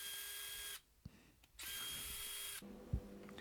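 A power drill whirs in two bursts while backing screws out of an Einhell 12V battery pack casing under repair, with a short pause between runs and a faint tap near the end.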